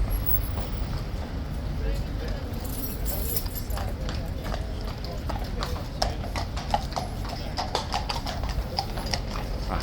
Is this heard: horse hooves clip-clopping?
yes